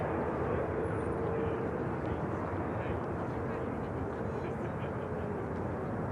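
An Aer Lingus airliner taxiing at Manchester Airport gives a steady, broad jet-engine rumble and whine that holds evenly and fairly distant throughout.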